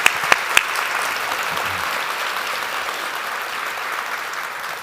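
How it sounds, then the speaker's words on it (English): An audience gives a sustained round of applause, a dense, even wash of clapping from a crowd that holds steady throughout, with a few sharp claps up close at the start. "Give him a round of applause"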